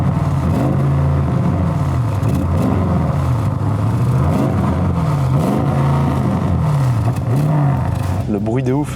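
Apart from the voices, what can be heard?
Audi RS car engine revving on acceleration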